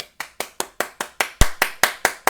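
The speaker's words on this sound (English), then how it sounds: "I'll clap for them" A single person claps by hand, eleven firm, evenly spaced claps ringing out close and alone with no talk, one landing noticeably harder near the middle.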